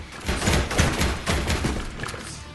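Dense gunfire in the Disney Infinity Monsters University game, with rapid overlapping shots fired in quick bursts. The shots are loud and close, and they continue steadily with almost no talking.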